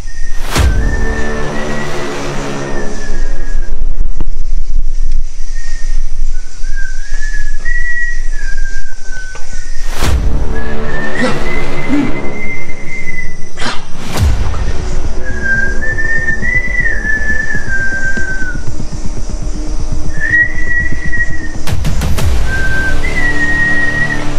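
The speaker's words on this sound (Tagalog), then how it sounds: "Parang may sumisipol guys." Eerie wavering whistles drift in and out over a loud, steady rushing noise throughout, with occasional sharp knocks or bumps in a quiet, deserted place.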